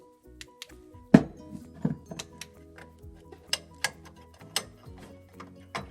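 Spring-steel socket clip on a GE Profile microwave bulb socket snapping and popping into its seat, a few sharp metallic clicks and taps amid small handling noises, close and fairly quiet.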